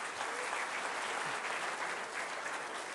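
An audience applauds a volunteer at a magic-and-science talk, giving a steady, even wash of clapping that sounds faint and distant throughout.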